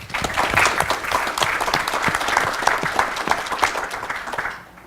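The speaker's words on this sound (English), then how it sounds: "a huge round of applause for Dr. Clays" A lecture-hall audience at UTSA gives a sustained round of applause for a speaker, dense clapping that carries at an even level for several seconds before fading out at the end.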